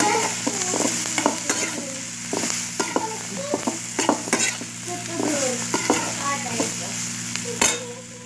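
Peanut powder stirred into a hot frying pan, steady sizzling with repeated scraping and stirring clicks close up, a constant low hum underneath and no talk.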